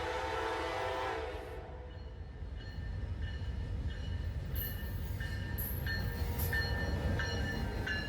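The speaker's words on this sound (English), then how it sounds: "It's time for me to pause for a train." A train passing nearby, a loud continuous rumble of rolling wheels with a horn blast at the start and sharp high squeals and clanks later on, sustained throughout.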